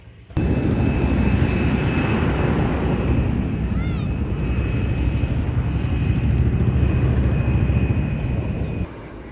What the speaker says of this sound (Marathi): आम्हाला जवळून प्लेन असं उडून दिसतात